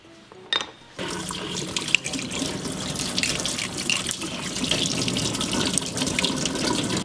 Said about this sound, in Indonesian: Kita gosok-gosok sambil dialirin air.